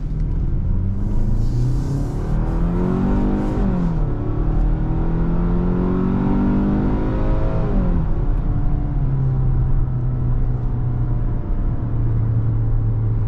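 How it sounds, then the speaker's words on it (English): A 2024 Hyundai Tucson family SUV accelerates up a hill through a right turn, its engine rising in pitch as it revs, easing between shifts, then settling into a steady cabin hum and road rumble. "Let's go ahead and do an acceleration right here on this uphill right turn."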